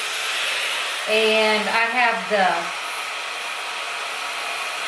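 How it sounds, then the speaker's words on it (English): A Dyson blow dryer fitted with a diffuser runs as a steady, close, hissing whoosh throughout, while someone talks briefly over it. "Now I'm going to use my Dyson blow dryer."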